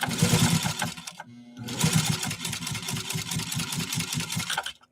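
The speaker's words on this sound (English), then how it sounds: "it really creates a lot of friction as that needle is trying to sweep through with that thread" A Singer 15-91 sewing machine stitches through hard leather in a rapid, rhythmic mechanical chatter, pausing briefly partway and then resuming steadily before stopping, loud and close.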